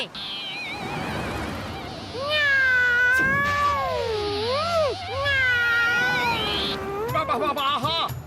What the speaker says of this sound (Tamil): அந்த பூனையோட சத்தம் கேக்குது